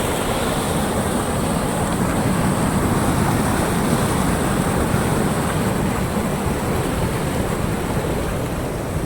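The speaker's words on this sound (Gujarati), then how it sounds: "નદી અડધી આવી ગઈ છે, પૂર ચાલુ છે" The flooded Ghee river at Bhatgam village rushing past in a dense, continuous roar of moving water, loud and close, with no voices.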